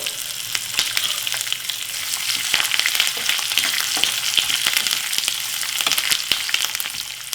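Green and dry chillies with curry leaves fry in hot oil in a pan, a continuous close crackling sizzle with rapid popping spatters throughout.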